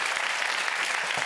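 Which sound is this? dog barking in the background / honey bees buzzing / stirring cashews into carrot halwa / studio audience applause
studio audience applause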